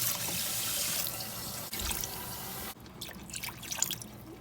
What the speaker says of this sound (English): I will turn on my heat on high and I will add 5 cups of water.